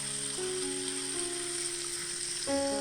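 Stuffed squid tubes frying in a hot pan give a steady, close sizzle throughout. A sustained tonal hum runs underneath, and there is no talking.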